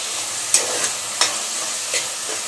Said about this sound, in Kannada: ಅದನ್ನು ಹಾಕ್ಕೊಂಡು ಇವಾಗ ಫ್ರೈ ಮಾಡ್ಕೊತಾ ಇದ್ದೀನಿ